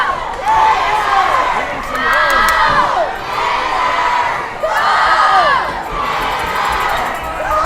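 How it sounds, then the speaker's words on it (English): A Gator home crowd cheers at a high school baseball state championship game, loud waves of shouting and whooping swelling and fading several times, young voices prominent. "Gator crowds waking up."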